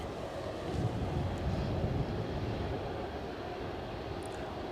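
Jet airliner taking off at Aberdeen airport, a steady broad roar of engine noise holding loud and even throughout, swelling slightly near the start, with some wind buffeting on the microphone.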